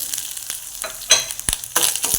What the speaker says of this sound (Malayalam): ഈ തേങ്ങ ഒന്ന് ബ്രൗണായി വരുന്നത് വരെ ഒന്ന് വറുത്തെടുക്കും